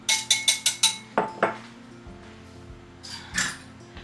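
A mixing bowl handled while making a chocolate marble cake batter gives a quick run of five bright clinks, then two duller knocks and a few softer taps later, close and with no talking.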